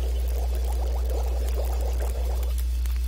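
Water being melted in a pot in the survival game The Long Dark, giving a soft bubbling, pouring wash that runs steadily over a constant low hum and then fades near the end.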